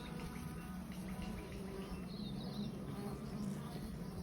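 Honeybees buzz during a beehive inspection in Australia, a faint, continuous hum of many bees with a few closer drones passing by.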